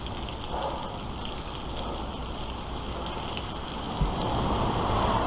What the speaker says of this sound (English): I was fine, then it started downpouring as soon as I get to the bridge.